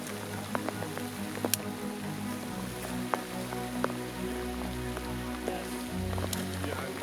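Steady rain pours down on an Alaskan moose-hunting camp, a constant hiss scattered with sharp drips and taps on nearby surfaces, with a low rumble underneath.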